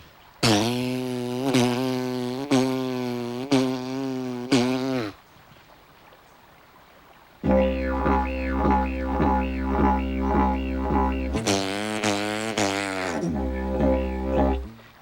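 A droning didgeridoo with rhythmic tongue twangs imitating a hopping kangaroo pulses in bouncy bursts, pausing briefly before resuming with a steady hopping rhythm.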